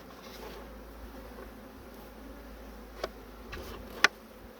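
Honey bees buzzing at an opened beehive, a soft continuous hum close by with a couple of faint clicks near the end.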